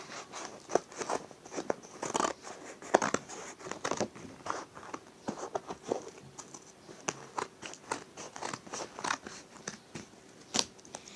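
Scissors cutting through stiff homemade face-mask material, a run of crisp, irregular snips and crackles at close range, fairly quiet, with no talk over it.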